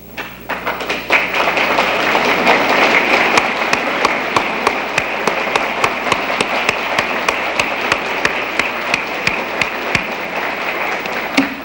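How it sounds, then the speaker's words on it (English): An audience at an anniversary observance of Chicago Pile 1 breaks into sustained applause, dense clapping rising quickly and holding steady and loud, with a few sharper individual claps standing out. "I'd just like for us to give you a round of applause."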